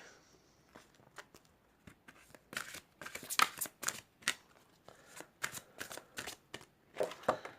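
An oracle card deck being shuffled by hand, a run of soft riffling and flicking bursts with short pauses, close and quiet, no talking.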